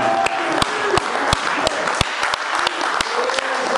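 A church congregation at Hébron applauds steadily, a dense wash of clapping with sharp individual claps punctuating it, fairly close, with voices and cheering mixed underneath.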